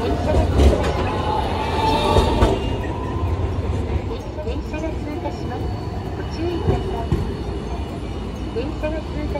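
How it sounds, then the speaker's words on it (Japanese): A Hiroshima Electric Railway streetcar rumbles steadily past at Hiroshima Station at night, a continuous loud low roar with rail noise throughout, under a repeating recorded announcement. "電車が通過します。 ご注意ください。"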